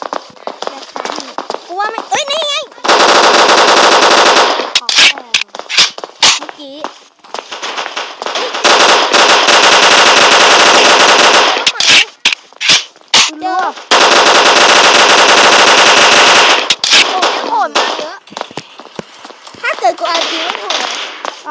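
Gunfire in the mobile shooter game Block Strike: long, loud bursts of rapid automatic fire alternate with single sharp shots, while a player talks and exclaims between and over the shooting.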